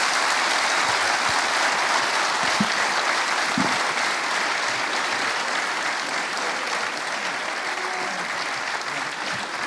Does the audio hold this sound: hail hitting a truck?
no